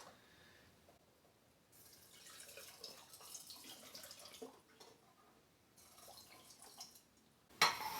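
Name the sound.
homemade mustard mixture being poured into jars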